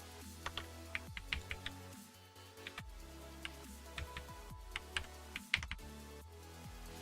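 Rapid, uneven clicking of computer keyboard keys while someone codes JavaScript, with bursts of sharp keystrokes and short pauses, close and fairly quiet, with no voices.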